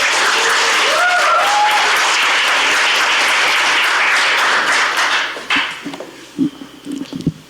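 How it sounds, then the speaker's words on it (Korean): Sustained applause from a seminar audience welcoming a lawmaker to the podium at a Korean forum on North Korea and unification. Full clapping fills the room, then thins into scattered claps and shuffling as a voice begins. "큰 박수로 모시겠습니다."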